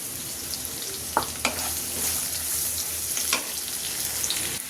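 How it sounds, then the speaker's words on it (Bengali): A handful of onions fries and browns in a pan, giving a soft continuous sizzle with occasional sharper pops and stirring clicks, fairly quiet and with no voices. "এখন আমি এটার সাথে 1 মুঠো পেঁয়াজ দিচ্ছি। পেঁয়াজটাকে একটু ব্রাউন করে নিই।"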